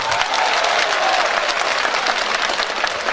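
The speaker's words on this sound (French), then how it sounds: "Et il faut applaudir pour ça. Applaudissons, n'ayons pas peur." An audience at a speech by Kemi Seba breaks into sustained applause, a dense, steady wash of clapping from a crowd that holds evenly throughout.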